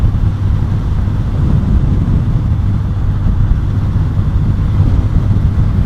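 A Yamaha Virago XV250 bobber motorcycle on a test ride gives off a loud, steady low engine drone mixed with rushing wind buffeting the microphone, continuous throughout with no talking.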